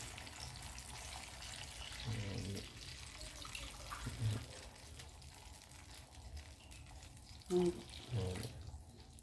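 Water runs faintly from a tap, with a few brief louder splashes near the end as it pours into a pot for cooking vermicelli upma.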